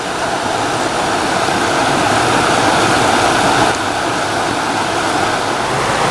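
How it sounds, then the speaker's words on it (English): Loud rushing creek rapids tumble over mossy rocks, a steady broadband roar of flowing water running continuously and close by, with no voices. "the sound of the loud rushing creek"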